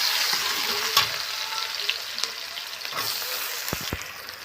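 Bay leaf and chopped onion fry in hot oil for chicken curry, a steady close sizzle with occasional stirring scrapes and a couple of sharp clinks near the end.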